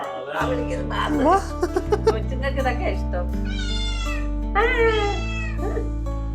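A cat meows several times, drawn-out rising and falling cries, close and clear over background music, with a voice talking briefly.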